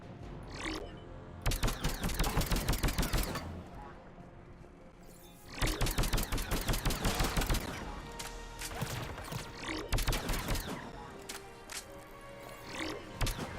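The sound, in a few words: gunfire in video game Mass Effect 3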